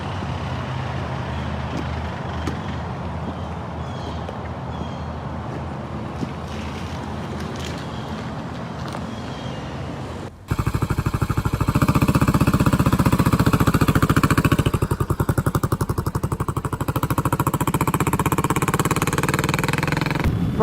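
A Suzuki S40 motorcycle cruises along a highway through the Everglades, its engine drone buried under heavy wind rush that roars over the microphone, growing louder and harsher partway through.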